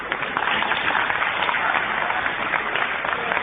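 Audience applause, a dense, steady clapping from a crowd that carries at an even level throughout, fairly close and with no speech.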